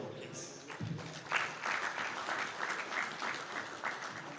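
Audience applause at a press union journalism awards night, a warm sustained wave of clapping that rises after a spoken introduction and holds steady to the end.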